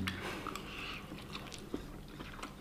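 Close, wet chewing of a spoonful of kimchi with pork and fat, soft crunches and squishy bites repeating steadily through a quiet room with no talk.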